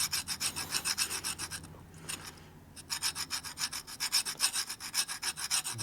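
Steady back-and-forth rubbing of a 1984 Harley-Davidson Evo FXR 80ci exhaust valve being hand lapped against its seat with lapping compound to clear carbon, a close rasping scrape in quick strokes with a brief pause midway.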